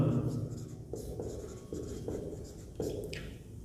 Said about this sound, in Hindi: तो मैं यहां लिखता हूं